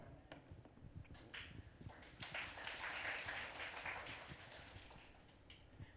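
A church congregation claps during a Sunday service, a broad wash of applause that swells in the middle and then eases off, with scattered sharper claps and some background rumble, fairly distant.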